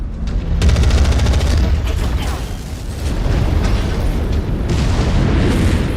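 Missiles slam home in MechWarrior 5 with heavy booming blasts, a dense rumbling barrage that swells, dips briefly, then surges again, loud and close amid mechanical battlefield noise.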